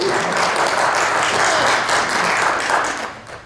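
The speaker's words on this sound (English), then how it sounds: "When you see the applause sign, you know what to do." A studio audience at a live Christmas radio show production bursts into loud, dense applause that keeps going steadily and then tapers off at the end, with no talk.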